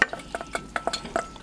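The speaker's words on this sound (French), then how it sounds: "Donc là, on va mettre les oignons à rissoler dans nos casseroles." Onions browning in butter in saucepans for a Flemish carbonade, heard as a quick series of sharp scraping stirs and clinks against the pan over a soft sizzle, close and fairly loud.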